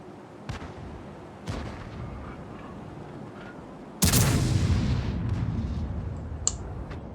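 A KV-2 tank's huge cannon fires once in World of Tanks, a sudden loud blast with a long rolling decay over a steady engine rumble, after a couple of softer distant shots.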